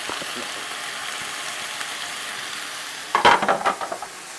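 Onions, leek and garlic sizzle in a hot pan with a steady frying hiss, then a utensil stirs and scrapes through them in a quick burst of clatters near the end.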